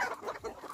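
Hens on a farm cluck in short, rapid, overlapping calls, close and clear, a brief burst of fowl chatter.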